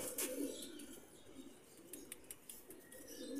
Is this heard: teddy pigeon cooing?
yes